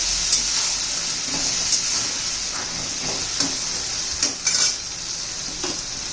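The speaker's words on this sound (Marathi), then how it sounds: "आलं लसूण पेस्ट छान असं परतून घेऊया" Ginger garlic paste sautéing with vegetables in a pan for a spicy dry masala brinjal and potato dish, a steady close sizzle with periodic scraping stirs of a spoon against the pan.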